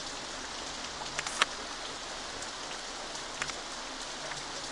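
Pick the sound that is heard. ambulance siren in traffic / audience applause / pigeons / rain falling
rain falling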